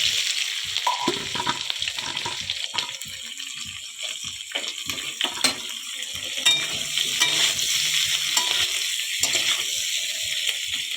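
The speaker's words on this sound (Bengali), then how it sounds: "আলুগুলোকে অল্প একটু ভেজে নিয়ে নুন হলুদ দিয়ে দেবো" Potatoes fry in a pan and are stirred, giving a continuous close sizzle broken by frequent scraping strokes of the spatula, with no voices over it.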